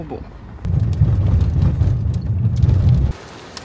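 Heavy rain in Namibia starts abruptly and roars steadily for a few seconds with a deep rumbling wash, then cuts off, with a voice heard faintly at the start.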